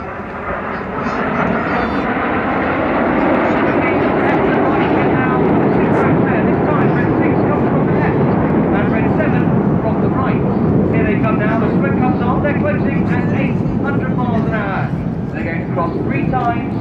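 Red Arrows display jets performing the vertical break over Bournemouth, a loud, sustained roar of jet engines that swells and holds steady throughout, with crowd or commentary noise blended underneath.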